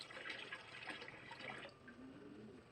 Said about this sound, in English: I'll pour a little of the pond water in there just in case there's some bugs in there.